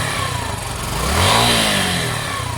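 A Sinnis SC125 motorcycle engine with a worn choke cable and a reluctant start runs loudly and close, rising in a rev that swells and then eases back to a rough idle.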